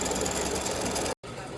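Embroidery machine stitching freestanding lace, a loud continuous rapid mechanical whir close by that cuts out abruptly and then resumes.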